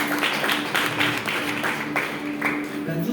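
A church congregation claps in scattered, uneven bursts, the applause thin and patchy rather than sustained, with some background murmur underneath.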